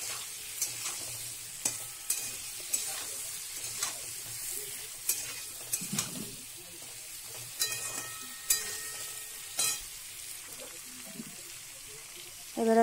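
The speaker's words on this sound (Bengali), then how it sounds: "নুন হলুদ দিয়ে এবারে আলু পেঁপেটা একটু কষিয়ে নিয়েছি। এবারে ঝিঙেটা দিয়ে দিলাম।" Potato, papaya and ridge gourd are sautéed with salt and turmeric, giving a soft sizzle and quiet frying hiss. A utensil scrapes and clicks against the pan at irregular moments.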